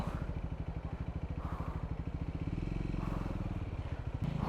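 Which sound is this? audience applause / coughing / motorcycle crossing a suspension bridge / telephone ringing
motorcycle crossing a suspension bridge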